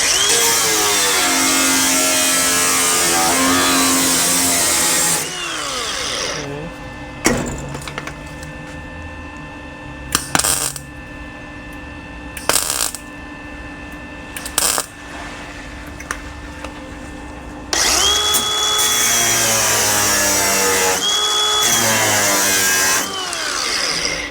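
An angle grinder cutting metal on a car body, a loud, sustained high whine with a shifting pitch, running about five seconds, pausing for a few scattered clanks and knocks, then grinding again near the end.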